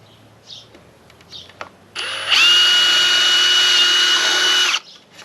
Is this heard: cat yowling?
no